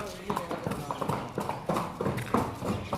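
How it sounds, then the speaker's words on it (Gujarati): Two mares walk with a steady, fairly close hoof clip-clop on hard ground beside an old temple, the beats irregular and overlapping, while a voice talks over them. "જો તમે બે ઘોડીઓ હેડી રહી"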